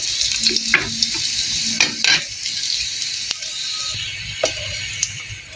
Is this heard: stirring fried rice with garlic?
yes